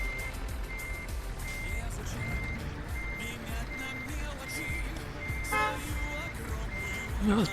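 Truck horn beeping in Euro Truck Simulator 2 on a winter drive in Russia, several short tonal beeps over a steady engine drone, with some talk.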